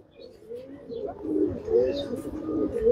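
A female racing pigeon coos close by, a run of soft, throaty rolling coos that rise and swell over a few seconds.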